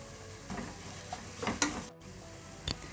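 Crushed garlic, ginger and slit green chillies frying softly in a pan while a spoon stirs, a few faint scrapes and taps over a low sizzle, no talk.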